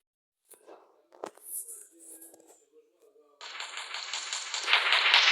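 A pistol fires in the physics game Melon Sandbox. A few scattered clicks and knocks come first, then a dense, continuous burst of rapid shots grows louder toward the end.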